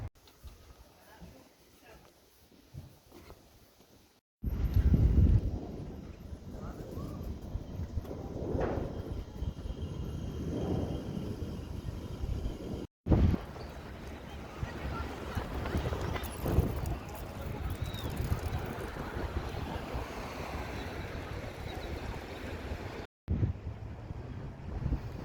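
Gusty wind buffets the microphone in heavy, rumbling bursts, interrupted by a few abrupt cuts, with faint background sounds between gusts.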